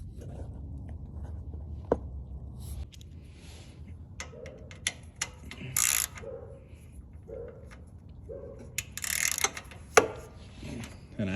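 Ratchet clicks in short bursts from an 11 or 10 millimeter socket loosening a generator's oil drain plug, quiet and close, with scattered metallic taps and creaks between the bursts and no talk.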